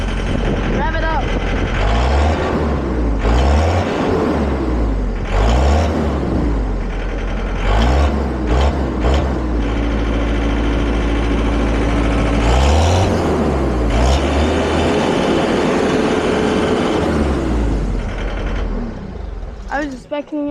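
A John Deere 317 skid steer's engine revs up and falls back repeatedly in steady surges. Loud and close, it runs throughout, with people talking over it.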